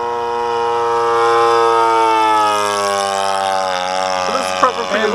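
Nitro engine of an old-school RC P-51 Mustang model plane screams loud and close in a sustained rising and falling whine, with brief clatter at the end.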